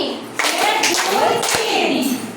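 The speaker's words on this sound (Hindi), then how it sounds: "ମୁଁ କହିବି ଯେତେ ତାଳି ମାରିବା ସେତେ" A classroom group of children claps hands together on cue, several loud bursts of clapping in quick succession, close and lively, with children's voices mixed in.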